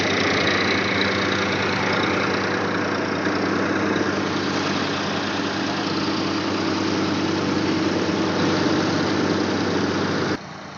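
A Sonalika DI 730 tractor engine runs steadily and loudly at idle on a cumin farm, a constant low rumble throughout, cutting down abruptly near the end.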